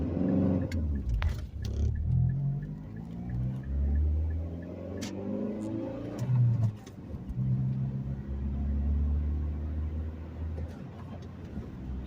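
Manual stick-shift car pulling away from a stop in second gear, its engine lugging with a low, labouring rumble that surges and falters, then steadies into a heavy drone, close and loud throughout.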